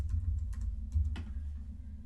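Quick light keystrokes on a computer keyboard while entering text in Notion, a short run of soft clicks in small bursts, close and quiet.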